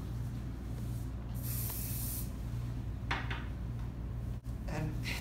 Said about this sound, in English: So I'm just going to put the sealer on.